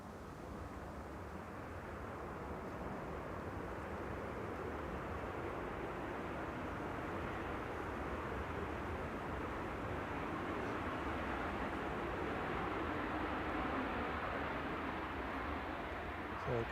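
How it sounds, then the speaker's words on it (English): A Qatar Airways airliner taxiing at Manchester Airport gives a distant, steady low rumble that swells slowly over time, mixed with wind noise outdoors. "Qatar is taxiing down."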